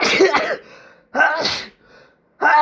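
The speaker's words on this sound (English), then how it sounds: "Oh, excuse me. Sneeze." A person sneezes three times in close succession, each sharp, loud burst separated by brief quiet pauses, close to the listener.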